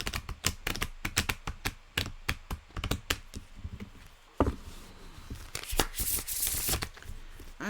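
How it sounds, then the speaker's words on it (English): Oracle cards from a love-themed deck shuffled by hand, a run of sharp close taps and snaps from cards knocking together, followed by a brief papery riffle, fairly loud with no voices. "as I'm shuffling"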